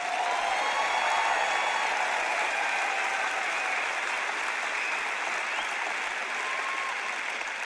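A church congregation applauds during a sermon, sustained dense clapping from many people that stays loud and even for several seconds, with faint voices blended in.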